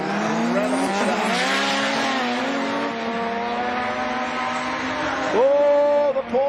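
Time attack race cars, including a Porsche, an Evo and an RX-3, roar past on a circuit with a steady loud engine drone whose pitch shifts through gear changes, then a sharp rising rev near the end.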